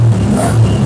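A used Royal Enfield Meteor 350 engine revs close by, a loud deep throaty thrum rising slightly in pitch over less than a second.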